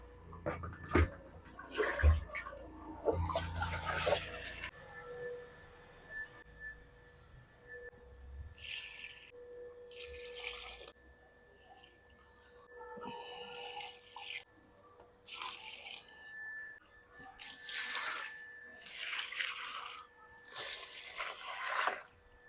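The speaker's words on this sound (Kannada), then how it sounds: "ಆಲ್ಮೋಸ್ಟ್ ಎಲ್ಲ ಪಾಟ್ಗಳಿಗೂ ನೀರು ಹಾಕಿ ಐತ್ರಿ." Water is poured into garden plant pots in repeated splashing bursts separated by quiet gaps, moderately close, with faint background sound between pours.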